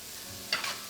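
Eggplant caponata being mixed in a pan after salt, black pepper and red wine vinegar go in, a soft steady sizzle with a brief louder scrape and stir near the end.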